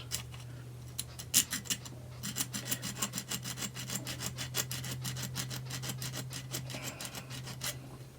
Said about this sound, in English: And we want to sharpen the edge a little bit.